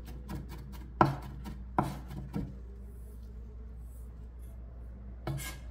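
Garlic minced finely with a kitchen knife on a board: a quick run of light, close chopping taps, a few heavier knocks, a quiet pause, then one more knock. No voices.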